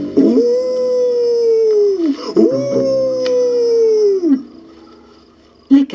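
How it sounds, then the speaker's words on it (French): A wolf gives two long, drawn-out howls, each rising and then sliding down before trailing off, loud and close. A short bark-like yelp follows after a quiet gap. "Là, un loup."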